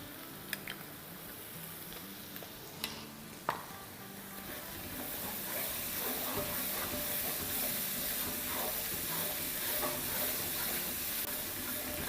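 Yogurt spooned into a sizzling onion, tomato and ginger-garlic masala in a single pan, giving a soft steady hiss that swells after a few faint clicks and clinks at the start.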